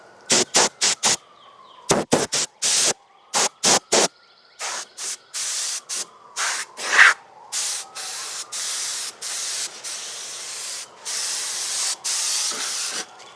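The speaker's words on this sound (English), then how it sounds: "This is where thing of compressed air comes in so handy." Can of compressed air blasting onto an RC Lufthansa A350-900 airliner fuselage in loud, close hissing bursts, short and rapid at first, then longer sustained sprays.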